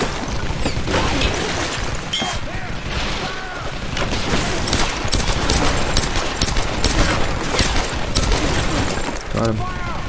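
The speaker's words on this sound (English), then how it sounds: "Minigun." A minigun fires in the Tomb Raider video game amid a chaotic firefight, with dense rapid bursts, crashes and shattering debris. Loud throughout, with shouted voices mixed in.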